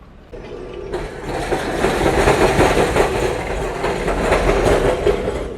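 An older Melbourne tram rumbles steadily along the rails, with clattering wheels and a broad metallic roar that grows louder and stays close.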